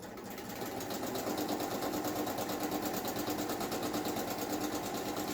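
A domestic sewing machine runs steadily while free motion quilting, a fast even mechanical whirring and clatter that rises to a constant rhythm and holds, close and alone without talk.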